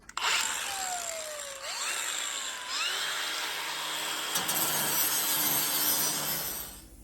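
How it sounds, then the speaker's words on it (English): A wire brush scours bare metal on a VW Super Beetle dashboard during a 1972-to-1963 dash swap, a harsh, close scraping whir whose pitch sweeps down and up as the tool loads and frees. "We're going to go over it with the wire brush"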